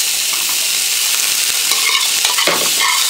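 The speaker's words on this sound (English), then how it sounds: "Now I'm going to add 2 tomatoes." Tomatoes going into a sizzling chicken stir-fry, a loud continuous hiss and crackle of hot oil with small stirring clicks, close up and without talk.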